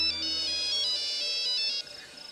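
An incoming-call ringtone plays on a phone in a Bhojpuri TV serial scene: a bright, repeating electronic melody that chimes steadily for nearly two seconds, then fades to quiet.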